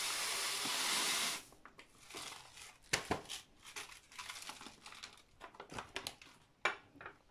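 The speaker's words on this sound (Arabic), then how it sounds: "اذا اول حاجة غادي نضع الشوفان في هذا الصحن اللي غادي نخلط فيه المكونات" Oats poured into a mixing bowl: a loud hissing rush of grains for about a second, then scattered light rustles, crinkles and clinks near and close up.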